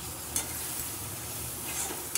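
Mashed elephant foot yam is stir-fried in a wok with splashes of water, giving a soft continuous sizzle under steady stirring scrapes, with a couple of brief louder clinks of the spoon against the pan.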